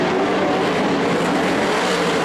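A 360 sprint car races around an oval track with a loud, steady, roaring engine drone that fills the whole moment without a break.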